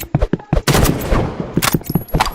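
Rapid gunshots ring out in the Roblox game Rivals, a loud, close run of sharp cracks and bursts followed by a dense spell of continuous firing, then more scattered shots toward the end, with no talking.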